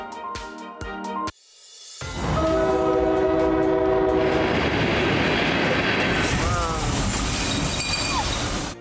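A train passes close by with a loud sustained horn blast and a rushing rumble of wheels, at the site of a train and bus collision at Shamalgan, after a brief stretch of news studio music.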